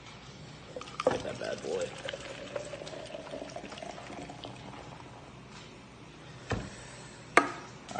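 Beer glugs and fizzes as it is poured into a glass, a running liquid pour under casual talk, with a few clinks and knocks scattered through.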